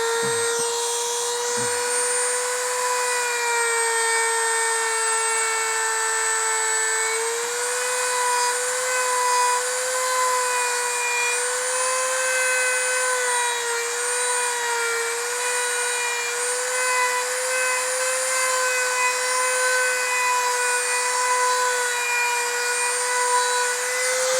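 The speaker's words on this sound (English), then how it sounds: "take the Dremel with a little sanding disc here" A Dremel rotary tool with a small sanding disc whines steadily at a high pitch while grinding, a continuous loud buzz with slight wavering, alone without talk.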